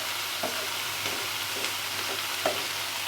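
Spices frying in a pan for a masala pomfret fish recipe, a steady close sizzle with several soft scraping stirs at irregular intervals.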